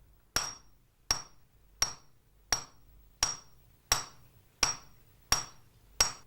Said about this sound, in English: he hammers a plain iron rod down to a sharp point